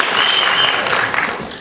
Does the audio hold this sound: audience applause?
yes